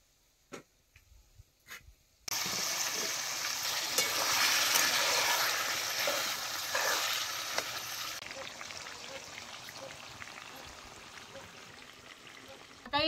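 Cooked mutton is poured into chutney frying in oil over a village wood-fired stove, starting with a sudden loud sizzle that hisses steadily and slowly fades, with a few knocks just before it.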